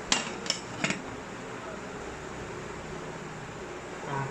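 Metal idli plates clink and clatter a few times at the start as they are set into a steamer for mini idli, then a steady hiss of steam fills the rest.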